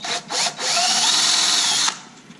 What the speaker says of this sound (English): carbon fiber that you're drilling into, so it takes a second. And we'll drill new holes.